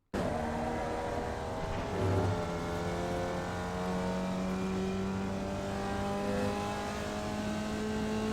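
A Formula Vee race car in iRacing at Oulton Park accelerates in third gear. Its buzzing engine climbs steadily in pitch, loud and close, with no talk over it.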